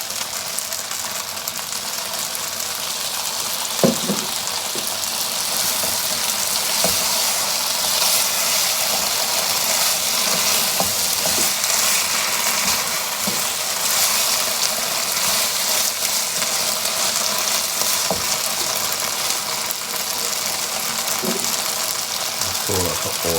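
Beef in black bean sauce sizzles steadily in a pan after water is added, a continuous loud hiss with a few soft knocks from utensils scattered throughout, and no voices.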